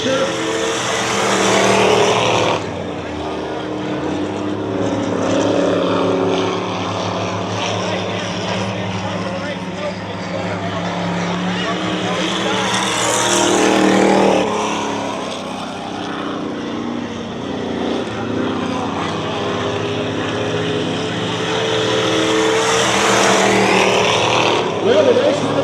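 Race cars roar around a dirt track during a 120-lap enduro feature, a loud continuous engine drone swelling and fading as the pack passes, with an announcer talking over it.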